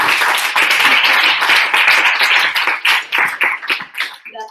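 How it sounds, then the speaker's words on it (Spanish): At a talk on mindful parenting, an audience claps loudly and close by, then the applause thins into scattered individual claps over about four seconds. "Un aplauso para Jordi, por favor."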